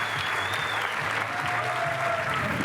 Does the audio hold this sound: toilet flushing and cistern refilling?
no